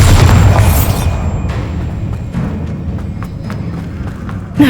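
A loud Bombarda spell blast from Hogwarts Legacy opens with a heavy boom that decays into rumbling debris and scattered crackles, ending on a second sharp hit near the close.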